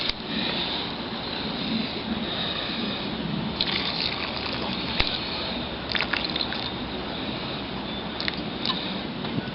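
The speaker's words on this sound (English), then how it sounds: "I'm gonna add a little less of the boiling water" Boiling water pours steadily into couscous in a container, a continuous gushing trickle with a few small clinks and splashes near the end.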